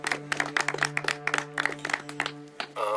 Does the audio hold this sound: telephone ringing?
no